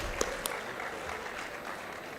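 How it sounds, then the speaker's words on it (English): Audience at a maritime summit applauding, a soft, steady patter of distant clapping with a couple of sharper nearby claps at the start. "Come on, give a clap. More energy, more."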